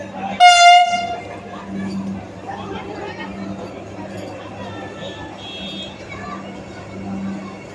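A Vande Bharat Express semi high speed train sounds a loud, sharp horn blast at the start, then a steady low rumble and hum carries on with faint background chatter.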